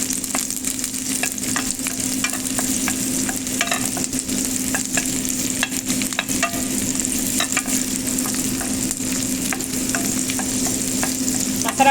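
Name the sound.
onion sautéing in butter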